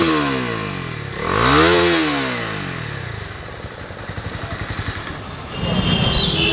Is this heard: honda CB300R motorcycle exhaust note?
yes